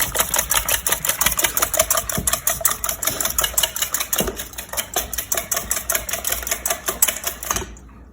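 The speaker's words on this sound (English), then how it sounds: "Not only am I looking to stir it up good, I'm looking to incorporate some air into these eggs" Eggs being whisked briskly in a bowl for a quiche, a fast, even run of rhythmic clicking strokes close by that stops abruptly at the end.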